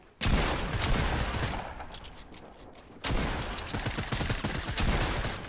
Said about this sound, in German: Ich verschuss 3 Pumpshots